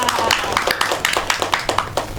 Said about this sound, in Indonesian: Beri tepuk tangan Mbak Devita.